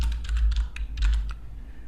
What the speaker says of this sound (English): Let's just write name here,